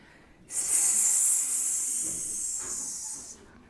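A long, steady hissing exhalation made by a person imitating a snake while holding a cobra yoga pose, close and breathy, starting abruptly and tapering off after about three seconds.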